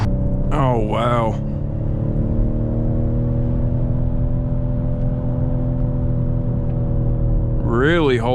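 A 2019 Ford Edge ST's engine drones loudly and steadily at close range. A voice exclaims briefly at the start and again at the end.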